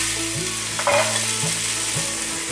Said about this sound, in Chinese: 再来些毛豆， 快速的翻炒。